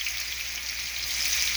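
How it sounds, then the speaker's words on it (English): Uncoated chicken wings fry in hot grease in a pan, giving a steady hiss and a dense crackle that holds even throughout, close and moderately loud, with no talking. "Ooh, that grease is frying,"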